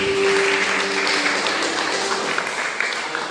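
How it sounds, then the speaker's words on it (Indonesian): Steady, fairly loud applause from an audience at a Christian gathering, continuous throughout with a brief tone near the start. "Sekali lagi tepuk tangan buat"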